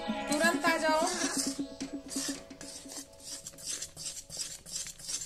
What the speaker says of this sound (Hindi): उसको नीचे ऊपर चलाते रहें।